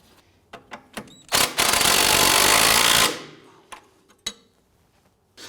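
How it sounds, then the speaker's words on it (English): Axle nut on a 2004-2008 Acura TL front CV axle tightened with a power tool, a single loud sustained whirring burst of about two seconds amid scattered clanks and taps, with no talk. "Let's go ahead and get our nut started here. Let's go ahead and tighten that down."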